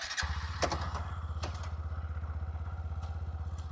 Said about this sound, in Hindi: अभी मैं आपको किक स्टार्ट करके दिखा रहा हूँ